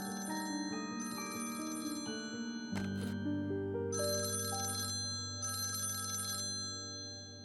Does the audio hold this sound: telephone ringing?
yes